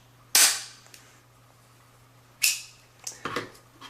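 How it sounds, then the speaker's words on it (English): A SIM card punch trims a standard SIM down to micro SIM size with loud, sharp snapping cracks: one crisp snap, a pause, another crack, then a quick cluster of smaller clicks. "we're going to go ahead and punch"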